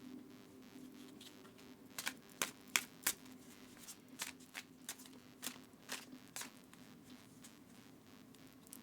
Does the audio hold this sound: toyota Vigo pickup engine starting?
no